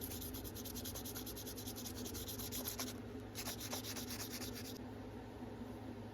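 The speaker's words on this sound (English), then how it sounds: "Let's get to sanding." Quiet, rhythmic scraping of sandpaper rubbing back and forth on an antique bone knife handle in short repeated strokes, close by with no talking.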